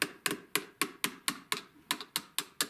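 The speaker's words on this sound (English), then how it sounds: "you actually have to go through from the other side where the sear hole is and tap it out" Metal tool tapping a tight part out through the sear hole of an old Essex double-barrel shotgun: about eleven sharp, evenly spaced hammer taps, close and crisp, with no talk.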